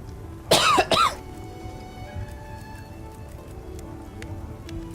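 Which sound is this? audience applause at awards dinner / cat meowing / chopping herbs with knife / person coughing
person coughing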